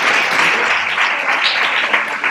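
Loud, dense audience applause fills the hall at a Three Kings proclamation and coronation ceremony in Nerva, steady and continuous throughout with no pauses.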